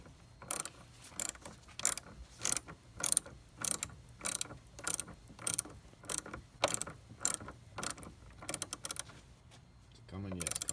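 Ratcheting wrench loosening intake bolts on a Hyundai Genesis Coupe 3.8 during an Injen intake install, a steady series of close rhythmic clicking bursts, about twenty in a row, with a short scrape at the end.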